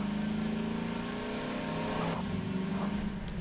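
A Flintstone car driven in the video game Garry's Mod gives a continuous, loud, engine-like drone with a steady low hum and shifting tone throughout.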